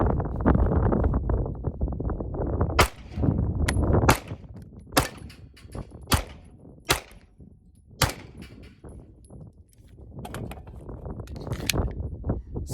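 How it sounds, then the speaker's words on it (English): A Ruger RXM 9mm pistol fires at steel plate targets on a shooting range, sharp shots each followed by a ringing metallic clang, about a dozen spaced hits with steady background noise between them. "So now we're going to be shooting these steel plates."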